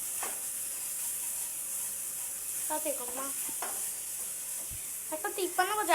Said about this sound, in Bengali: এগুলাকে একটু নাড়াচাড়া করে ভাজা ভাজা করে নিতেছি